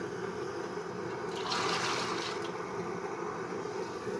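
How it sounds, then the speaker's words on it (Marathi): Water pours into a cooking pot in a home kitchen, a soft rushing splash that swells in the middle and fades against a steady background hum. "आता हे सर्व पाणी मी याच्यात ओतून घेणार आहे पातेल्यात."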